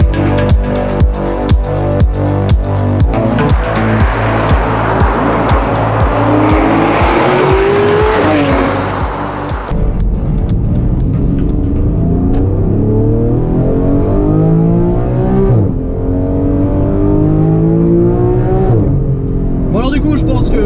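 A Porsche 911 GT3 991.1 with a naturally aspirated 3.8-litre engine screams close up on roads in the Vallée de Chevreuse, revving hard with rising and falling gear sweeps and brief tire squeal, while someone talks over it.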